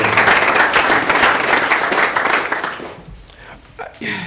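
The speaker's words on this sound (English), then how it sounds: "just give yourselves a round of applause" A conference audience breaks into loud, full applause that holds for nearly three seconds and then fades out, after which a speaker's voice resumes.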